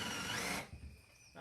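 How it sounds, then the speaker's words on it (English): A power drill driving wood screws into kiln dried hickory while building a nesting box, a loud whirring burst that cuts off after about half a second, followed by quiet handling noise. "This is kiln dried hickory, so it'll probably be rough drilling through."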